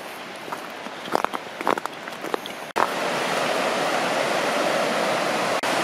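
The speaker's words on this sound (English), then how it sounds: "This is the North Fork of the Skokomish River we're seeing." The North Fork Skokomish River on a forest trail rushing steadily in a broad, loud wash of water, first with scattered footsteps and rustling, then a constant, close flow.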